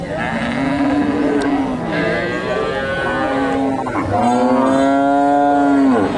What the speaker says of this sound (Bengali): ফ্রিজিয়ান গাভী, ফ্রিজিয়ানের ক্রস।